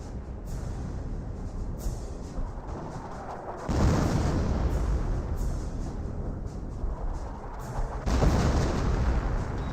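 Anti-tank gun fire in Company of Heroes, a WWII strategy game: heavy booming shots land around 3.7 and 8 seconds over a constant rumble of distant battlefield noise, with no talk.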